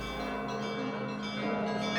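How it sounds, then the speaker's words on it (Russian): Church bells of the St. Danilov Monastery ring in a low, steady wash of overlapping tones, sustained and fairly faint without distinct strikes, with no voices. "Неповторимые голоса именно этих колоколов в разные времена, на разных этапах жизни сопровождали и российских императоров, и будущих президентов Америки"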